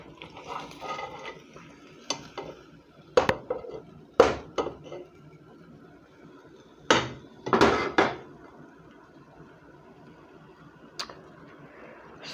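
Pot and utensils clank on a stove while taco sauce is added for chicken tacos, a few sharp isolated knocks and clatters spread over quiet kitchen background, loudest in two clusters near the middle.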